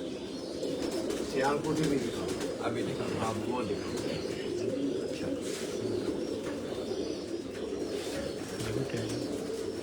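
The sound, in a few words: pigeons cooing on rooftop loft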